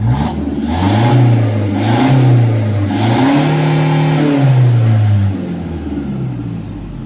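A Toyota Vigo pickup fitted with an electric throttle box revs up hard and holds a loud, rising and falling engine roar for several seconds before easing off, with no voices over it.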